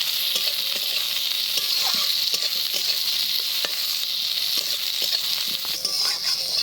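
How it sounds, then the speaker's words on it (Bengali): Chopped onion sizzling steadily in hot oil after a spice tempering, with a spatula scraping and stirring through it in short irregular strokes, close and fairly loud, no voices. "এবার দিয়ে দিচ্ছি কুচানো পেঁয়াজ। পেঁয়াজটা একটু নেড়ে চেড়ে বেগুনগুলো দিয়ে দেবো।"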